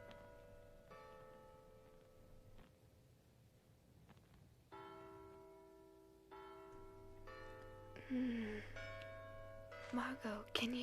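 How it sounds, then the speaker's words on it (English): Church bells ring through a quiet night scene, tolling in sustained, overlapping peals that swell louder toward the end, mixed with soft music-like tones and low background ambience; no speech over them. "can you hear the church bells?"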